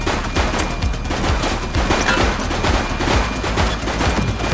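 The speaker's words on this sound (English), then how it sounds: "He's shooting!" A shooting suspect's gunfire in the video game The Precinct rattles in a dense, continuous fusillade of rapid shots, loud and close, running throughout without talk.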